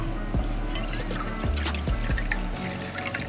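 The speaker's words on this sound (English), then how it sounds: "We're gonna go about half a cup apple cider vinegar" Apple cider vinegar is poured into an Instant Pot holding wild hog pork, with a steady liquid trickle and splash that is close and continuous. Faint background sounds come from the kitchen.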